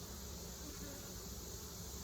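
Honey bees from a swarm colony buzzing thickly around an opened hive during an inspection, a dense steady hum close by with no voices.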